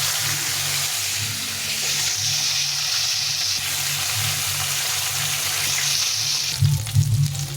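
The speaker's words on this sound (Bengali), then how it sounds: "তাহলে আর এক পাশে এভাবে ভেজে নিচ্ছি।" Fish fries in a well-heated kadai (wok), giving off a steady, close sizzle with a short clatter near the end.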